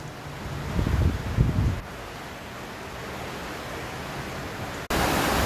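Heavy rain is growing stronger, giving a steady broadband hiss that is fuller at first, eases slightly, then jumps louder again near the end, with no voices.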